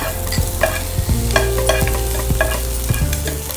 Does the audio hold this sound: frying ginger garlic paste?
yes